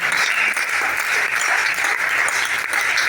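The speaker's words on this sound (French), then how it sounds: "Acclamons pour cette révélation." A church congregation applauds at a Sunday worship service, with loud, dense, steady clapping that fills the whole moment without a break.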